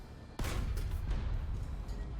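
A sudden heavy boom of tank cannon fire from a KV-1 (L-11) in War Thunder, with a deep rumbling tail that lingers, followed by distant muffled thuds.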